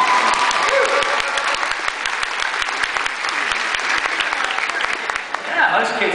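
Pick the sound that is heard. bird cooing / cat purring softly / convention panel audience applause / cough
convention panel audience applause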